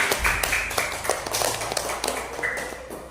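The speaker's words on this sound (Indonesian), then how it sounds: "kalau tepuk tangan untuk kelompok 3." Students clapping in a classroom for a presenting group, a short, fairly faint burst of scattered hand claps and taps in a roomy space.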